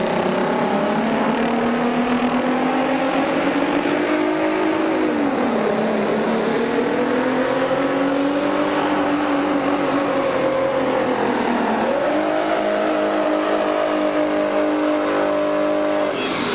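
A hot rod semi truck's engine roars continuously while pulling a sled at a truck pulling event in Hamburg, NY. The revs climb steadily, with audible gear changes where the pitch drops and then rises again, and the sound stays loud and sustained throughout.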